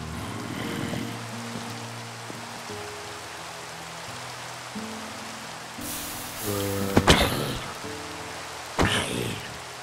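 Steady pattering rain in the Minecraft SkyFactory 3 game, a soft continuous hiss under low game tones, with a couple of louder sharp impacts in the latter half.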